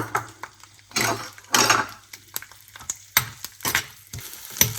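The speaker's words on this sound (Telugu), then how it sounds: "సేమ్ పాన్లో కొద్దిగా ఆయిల్ వేసుకుని వెల్లుల్లిపాయ వేసుకుని వేయించుకోవాలి" Garlic frying in a little oil in a pan, bursts of spattering sizzle and spoon scrapes coming in irregular waves over a low steady hum, close by.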